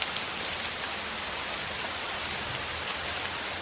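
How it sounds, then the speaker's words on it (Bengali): Steady morning rain falls continuously, a dense, even hiss of drops with no pauses and no voices. "এত সকাল সকাল যে বৃষ্টি নামবে কে জানে"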